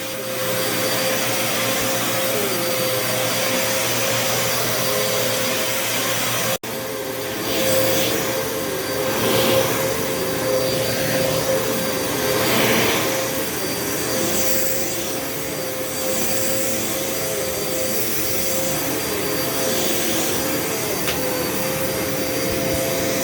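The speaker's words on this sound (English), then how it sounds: "you want to vacuum in a forward and back motion a couple times over the same area." A vacuum cleaner runs steadily over carpet, its constant motor whine and airflow roar close and loud, with a brief dip partway through and rhythmic swells of rubbing as it is pushed forward and back over the same area.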